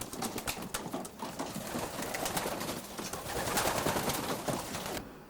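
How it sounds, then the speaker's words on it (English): Racing pigeons coo softly and repeatedly in a loft, several birds overlapping in a steady murmur, with faint rustling in the background. "This is a quality pigeon, Brian."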